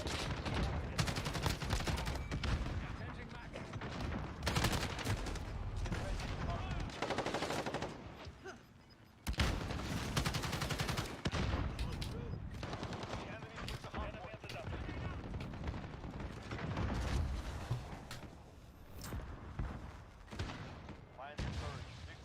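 Constant rapid gunfire in a close-quarters Modern Warfare match on a small cramped map: dense machine-gun bursts and overlapping shots crackling almost nonstop, with brief lulls between volleys, and a voice talking intermittently beneath.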